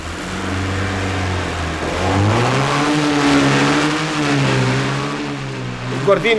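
Several cars in a 1970s New Year's comedy sketch rev their engines together, loud and close, rising and falling in a sustained roar for several seconds.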